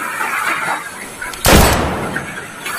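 A single loud gunshot cracks out during dinosaur hunting in Jurassic World Evolution 2, a sudden broad burst that trails off quickly over faint game ambience.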